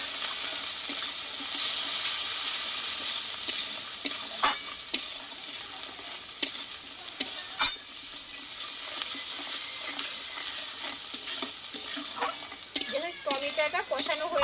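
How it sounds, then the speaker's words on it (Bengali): Spice paste with turmeric and salt sautés in fish-frying oil while a spoon scrapes and stirs the pan, a soft continuous sizzle broken by a few sharp clanks and scraping strokes, close by. "একসঙ্গে মশলাটা আমি ভালোভাবে কষিয়ে নেবো"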